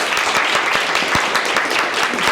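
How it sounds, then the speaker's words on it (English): Audience at a talk on live music in intensive care breaks into close, loud clapping, individual claps distinct and sharp within a sustained round of applause. "we should applaud them, really."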